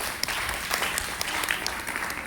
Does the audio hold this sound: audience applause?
yes